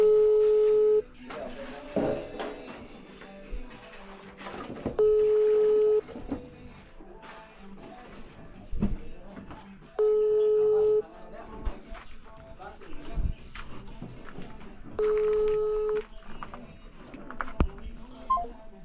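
Telephone ringing in a house on a Philippine home build site, four long electronic ring bursts spaced about five seconds apart, loud and close, amid talk and household clatter.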